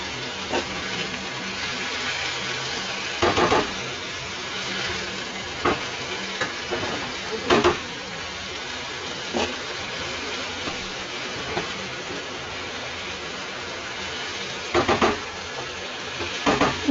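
A mini Moghlai paratha fries in oil in a wok, a soft, steady sizzle heard up close with occasional sharper pops and clatters as it cooks.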